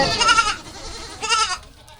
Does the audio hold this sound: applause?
no